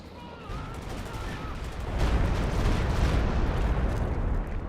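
An artillery barrage pounds a battlefield in the video game Company of Heroes 2, with dense crackling gunfire and heavy rumbling impacts that swell louder about halfway through and then hold steady.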